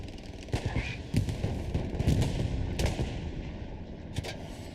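Battlefield gunfire in Hell Let Loose, with sharp heavy shots from an anti-tank gun and tank cracking at irregular intervals over a constant low rumble and scattered small-arms fire, moderately distant.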